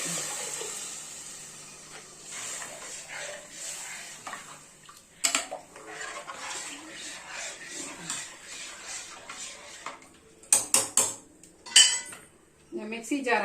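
Thick fish curry is poured into a metal pot amid scraping and clinking of a utensil against the rim, with a few sharp clanks near the end.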